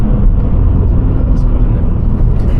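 A Vauxhall Astra's engine pulls hard under acceleration from inside the cabin, a loud, steady low rumble and drone that stays constant throughout.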